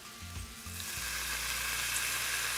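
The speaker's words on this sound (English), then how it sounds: "So I'm gonna deglaze the pan with some white wine." White wine poured into a very hot skillet of onions and garlic bursts into a loud, rising hiss that stays strong and steady, close up and with no talking.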